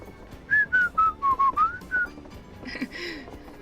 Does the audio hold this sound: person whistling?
yes